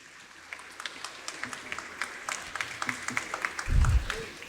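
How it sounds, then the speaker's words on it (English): At a school exhibition and graduation ceremony, scattered claps build gradually into a light round of applause for students, with a low rumble and a few voices toward the end. "They do deserve a big round of applause."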